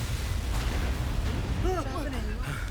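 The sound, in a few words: big explosion in a Filipino action movie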